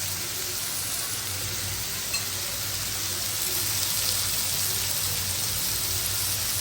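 Vegetable stalks fry with spices in a pot, giving a steady, close sizzle that runs continuously with faint stirring underneath.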